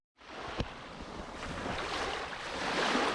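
Steady seashore waves wash in at Gabriela Beach Resort in San Narciso, Quezon, a broad continuous surf roar with wind, building slightly louder, with no talking.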